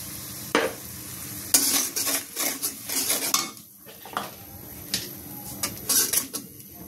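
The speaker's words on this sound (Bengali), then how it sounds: "তারপরে ভালো মতো কষাবো তরকারি" Fish curry being stirred in a pan with salt, turmeric and chili powder: repeated metal scrapes and clinks of a spoon against the pan over a low sizzle, in irregular bursts.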